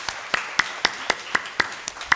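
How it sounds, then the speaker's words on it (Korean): Congregation clapping in unison during a Sunday church service, about nine sharp, evenly spaced claps in a steady rhythm, moderately loud over a quiet room with no talking. "하나님의 은혜인 줄 우리 박수랑 연결되겠습니다."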